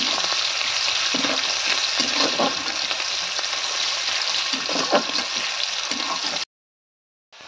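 Chopped onions frying in a pan, a dense continuous sizzle with faint scraping and stirring knocks, close and fairly loud, cutting off abruptly into silence near the end.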